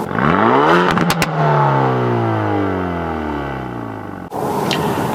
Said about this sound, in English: the active exhaust, everything you have got full on